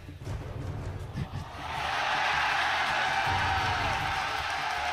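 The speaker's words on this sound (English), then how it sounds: "They're chanting Do It." A League of Legends esports arena crowd at an LCS match between C9 and TSM, its noise rising into a sustained, loud, broad roar of many voices that holds steady after a quieter start.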